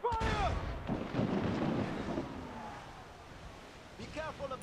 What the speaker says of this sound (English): I think mortar could be of good use here.